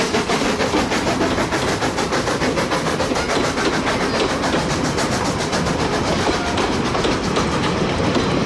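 The AB 699 steam locomotive runs along a train. A steady, close rumble is broken by a rapid, even clickety-clack rhythm of wheels over rail joints, sustained and loud throughout.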